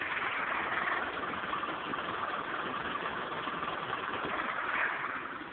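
A Ford Sport Trac V6 with a noisy pulley bearing idles steadily, giving a continuous hissy, whirring drone close by with no change in speed.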